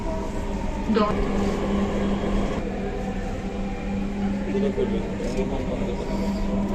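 Dhaka metro train running between stations, with a steady low rumble and hum of the carriage throughout and faint squeals rising briefly over the continuous interior noise.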